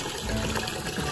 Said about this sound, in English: Your bucket's filling up, buddy.